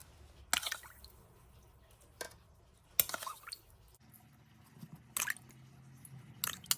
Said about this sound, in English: Try and cover the meat as best you can, rub it in with the back of the spoon,